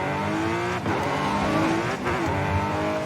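Lamborghini Aventador with a single-clutch paddle-shift gearbox in a Forza racing game, a loud continuous engine drone with two sharp dips in pitch as it shifts up through gears, no talking.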